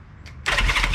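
A Honda CB350 motorcycle engine cranks and catches, a short faint tick followed by a sudden loud burst of engine noise, close up and with no talk.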